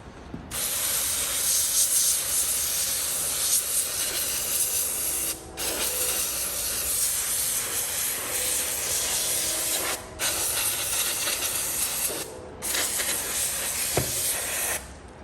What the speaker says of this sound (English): I'm just gonna spray it with this electronic cleaner.